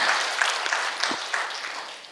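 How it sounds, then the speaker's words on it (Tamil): An audience at a talk gives a short burst of applause, moderately loud and close, with the clapping thinning toward the end. "அதுக்கு ஒரு கைத்தட்டல் கொடுத்துருங்க ப்ளீஸ்."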